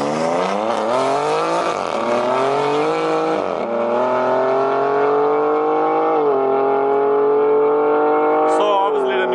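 A big turbo BMW M3 340i accelerating hard, its loud engine climbing through rising rev sweeps with quick gear-change dips, heard close and continuous from inside the car.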